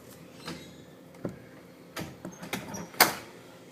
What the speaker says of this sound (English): When the door shuts, the hinge moves in conjunction with the door.